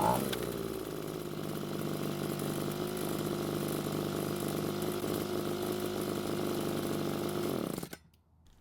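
A Poulan gas leaf blower, an old giveaway unit that needs tuning, runs at a steady buzzing idle close by for about eight seconds, then cuts off abruptly into near silence.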